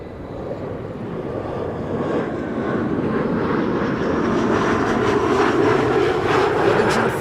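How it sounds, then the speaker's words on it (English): An Indigo Boeing 787-9 Dreamliner, six years old, arriving at Amsterdam Schiphol Airport from Mumbai on a frosty, sunny day: a steady, broad jet roar that swells gradually and stays loud throughout, with no voices. "Indigo Flight 21 arriving from Mumbai, 7879 Dreamliner, 8 hours and 58 minutes on the way."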